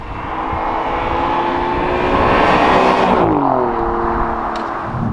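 An Alfa Romeo Giulia Quadrifoglio's turbocharged engine holds a loud, steady drone that builds slightly, then eases off as the revs drop and the note shifts downward, with no voices over it.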